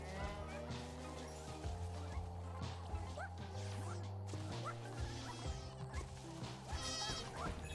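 Cow in the Astro Bot video game, a bleating, lowing animal call over busy game music and sound effects, with shifting tones and clattering noises.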